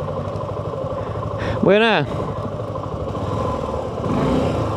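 A motorcycle is parked on a street in central Chalchuapa, Santa Ana, El Salvador. Its engine gives one brief rev that rises and falls, close by, under people talking and street background.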